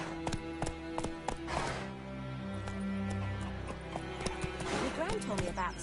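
Hoofbeats of a horse trotting in The Witcher 3 video game, a steady clip-clop rhythm close by, with game music and occasional voices over it.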